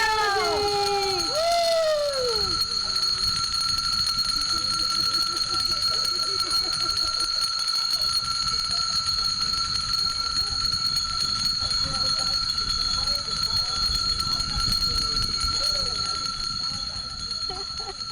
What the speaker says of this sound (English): Ring a bell for Rosie!